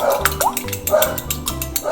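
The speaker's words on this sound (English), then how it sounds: "Excuse my neighbor's dog." A neighbor's dog barking nearby, a quick run of sharp repeated barks and yips heard close and fairly loud.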